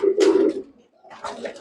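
Oman Teddy pigeons give close, soft, low cooing calls, one throaty phrase followed by a second after a short pause.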